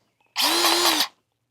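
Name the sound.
high-pressure grease gun pumping grease into excavator pin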